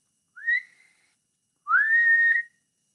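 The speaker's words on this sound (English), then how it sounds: "The whistle blows." Two sharp whistle blasts ring out alone, a short one followed after a pause by a longer, sustained blast.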